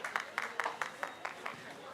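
A Brazilian beach volleyball player claps at a China Open 2014 final in Fuzhou, about eight quick even claps close together, faint under a commentator talking.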